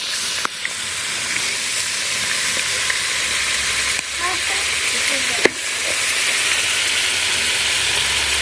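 Goat meat sizzles steadily in hot mustard oil in a pot, a continuous loud hiss of frying with a few sharp clicks and clatters from stirring.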